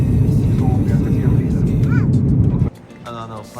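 An airplane flying overhead gives a broad, loud low roar that sits under speech before cutting off abruptly near the end.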